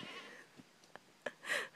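A goat bleats nearby, one drawn-out call near the end after a few faint scattered bleats and thumps over a quiet outdoor background.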